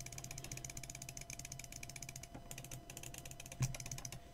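Quiet, close computer keyboard typing mixed with sharp mouse clicks, captured by a desktop microphone in an irregular stream of light taps with a slightly louder click near the end, no voice present.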